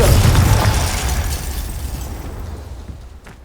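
A Confringo fire spell from the Hogwarts Legacy video game goes off as a loud, booming blast. Its heavy low rumble decays slowly over a few seconds, and no voices can be heard.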